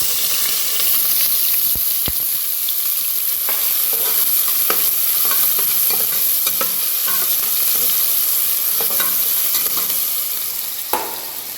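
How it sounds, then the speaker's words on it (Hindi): Onions for mutton curry fry and sizzle in a pan over caramelized sugar, with steady loud hiss and repeated scraping stirs throughout, no voices. "अरे प्याज को अच्छा ब्राउन कलर आने तक आराम से पका लेना।"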